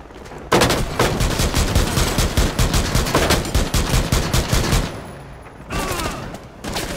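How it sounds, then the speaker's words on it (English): Rapid bursts of automatic gunfire in Rainbow Six Siege during a Bank team deathmatch, loud and close, firing in dense runs for several seconds before a brief pause and a final short volley. "I'm shooting that, Hacker."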